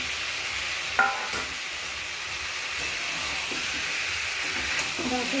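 Cauliflower added to a frying pan, giving a steady hiss and sizzle with a few clinks of stirring early on and near the end.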